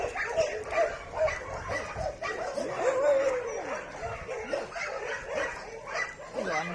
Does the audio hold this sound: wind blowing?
no